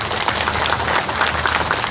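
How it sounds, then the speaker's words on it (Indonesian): Audience applause rises at an Indonesian fishermen's association anniversary gathering, a brief, even patter of many hands clapping in a large room, heard alone and fairly close. "Boleh tepuk tangan."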